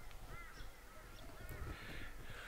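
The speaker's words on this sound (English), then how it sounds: "those crows are doing my head in" Crows cawing repeatedly outdoors, harsh calls at moderate distance over a faint background hum.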